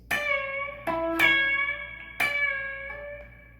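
Electric guitar plays the opening licks of a solo: a few sustained, ringing notes, each attack clear and sharp, with a bend and fading tail, played alone up close.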